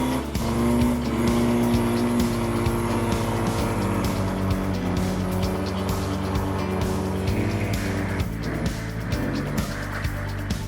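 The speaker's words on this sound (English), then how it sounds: "jump in the car and we'll take you out for a little skid" A car does a burnout on a New Zealand dairy farm, its engine revving hard and steadily with the throbbing roar of skidding tyres, loud and close for about ten seconds.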